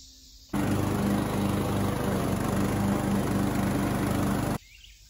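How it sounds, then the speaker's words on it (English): Small lawn mower engine running in a steady, loud, droning hum for several seconds, then cutting out abruptly, leaving quiet outdoor background with faint insect sounds. "So we're going to go jumpstart a mower"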